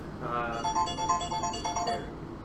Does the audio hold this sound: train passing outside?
no